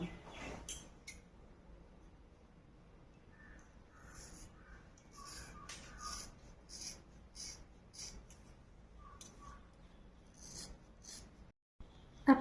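Scissors snipping the ends of long hair during an at-home trim, a series of faint, crisp cuts and light rasping strokes spaced across a quiet room with no talking.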